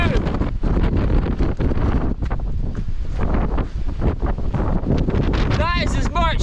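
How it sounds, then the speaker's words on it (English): Very strong wind gusting well above 50 mph on the Pacific Crest Trail near Tehachapi, roaring and buffeting the microphone continuously, loud and close, with brief whistling tones near the end. "Wind's picked up well above 50 right now."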